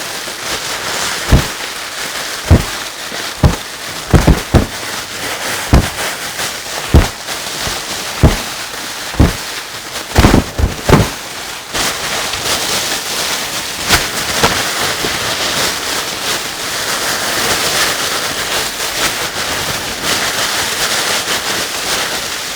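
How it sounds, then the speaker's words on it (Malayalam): Air-filled plastic bags burst one after another like fireworks, sharp loud pops spaced about a second apart, a quick double burst, then a continuous rustling crackle. "ഈ പ്ലാസ്റ്റിക് കവർ കൊണ്ട് നമ്മളൊരു വെടിക്കെട്ട് നടത്തും."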